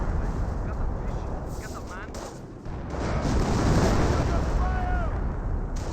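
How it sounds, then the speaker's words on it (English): Officer artillery shells land in a Company of Heroes match: a dense, rumbling barrage of booming impacts that swells and fades, with a commentator talking over the steady roar of battle. "that's definitely officer artillery"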